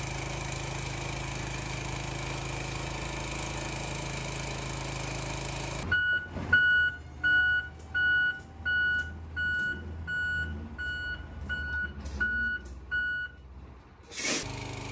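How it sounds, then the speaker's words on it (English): A truck backing up to load a shipping container sounds a steady series of regular reversing beeps after a loud engine rumble stops, with a brief burst of noise near the end. "Driver should be here to pick up the container, or at least the one container, in just a few minutes."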